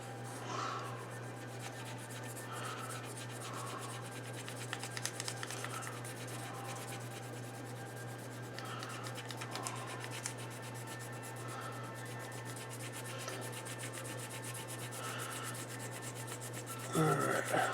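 Soft, steady rubbing strokes of sandpaper on a part for an RFM Tiger 1 scale model tank, worked back and forth in an even rhythm, close and quiet over a constant low hum.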